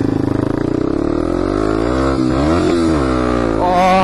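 Motorcycle engine running loud and close, revving up and down with rising and falling pitch over a steady rumble, then climbing at the end; no talk.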